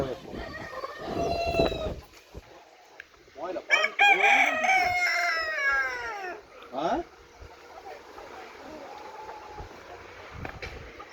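Roosters crow loudly nearby, one long drawn-out crow and then a second, with softer clucking in the background.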